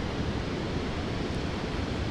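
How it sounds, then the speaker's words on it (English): Fast-flowing water after heavy rain, heard outdoors as a steady, broad rushing wash that stays constant and fairly faint throughout, with no voices over it. "You can still hear that water."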